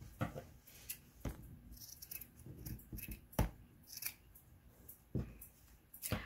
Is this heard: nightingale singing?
no